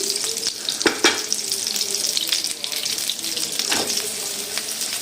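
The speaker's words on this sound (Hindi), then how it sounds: "मैं इसको 2 मिनट के लिए जो है वो और फ्राई करूँगी।" Chicken gola kababs fry in a pan with a steady, close sizzle, broken by a few sharp pops and occasional stirring clatter, with no talking.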